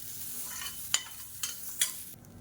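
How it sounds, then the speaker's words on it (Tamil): Coconut, cashews and poppy seeds dry-roasting in a pan for a brinjal curry, with a low hiss and three brief scraping stirs of a spoon against the pan. "இப்போ இது எல்லாத்தையும் நல்லா வறுத்துக்கலாம்"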